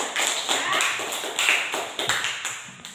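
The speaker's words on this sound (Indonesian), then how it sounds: "Tepuk tangan" Pupils in a classroom give a short patterned round of clapping for a classmate, crisp rhythmic claps in a quick sequence, close and moderately loud.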